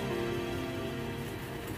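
Steady rain pattering on a surface, a dense continuous hiss of drops with no voices, even in loudness throughout.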